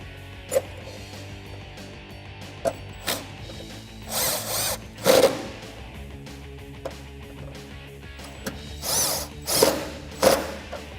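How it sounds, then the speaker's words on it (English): Tightening bolts on a Jeep Gladiator JT side step with a 10 mm socket and wrench: several short ratcheting clicks and brief metallic turns, close by, spaced irregularly with quiet gaps, no talking. "Now we'll tighten these up top using, again, a 10 mil socket and a 10 mil crescent."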